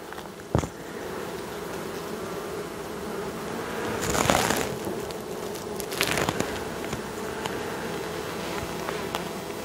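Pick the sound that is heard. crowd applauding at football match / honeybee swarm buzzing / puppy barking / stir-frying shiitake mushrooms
honeybee swarm buzzing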